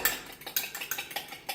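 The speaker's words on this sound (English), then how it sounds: "give that a nice little whisk around with the fork" Quick, irregular clinks of a fork whisking eggs in a bowl, a dozen or so light metallic taps in a steady whisking rhythm, close and fairly clear.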